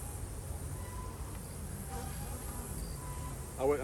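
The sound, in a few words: honeybees buzzing at the hive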